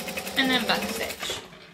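A sewing machine runs in reverse to back stitch a seam on a fabric lunch bag, a short whirring run that sits close and fairly loud alongside a voice.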